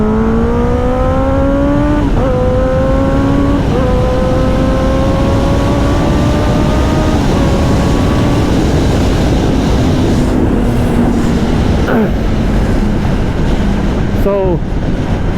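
A 2021 Kawasaki ZX10R motorcycle pulls hard under loud engine roar, its pitch climbing through several quick-shifter upshifts with brief dips between gears, heard close with heavy wind rush.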